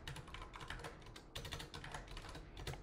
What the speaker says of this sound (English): So I would type my first question, press enter